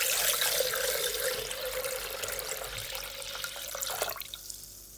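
Water runs steadily and fairly loudly into a Thermomix bowl, a 1500 g pour splashing continuously for several seconds before tapering off abruptly near the end.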